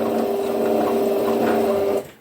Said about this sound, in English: I'm just approaching the end of the stitching of the hem here